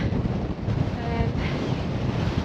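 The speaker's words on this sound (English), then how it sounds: "That wind is really getting up as well." Wind buffeting the microphone on an exposed fell in the Great Langdale area of the Lake District, a steady loud rumbling roar without pause.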